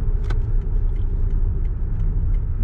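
A car drives along a road in Germany, giving a continuous low rumble from inside the cabin with faint ticks and knocks, and no talking.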